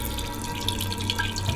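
Water runs from the small tap of a 5-litre water barrel in a converted Kangoo van, a steady close trickle with light dripping splashes throughout.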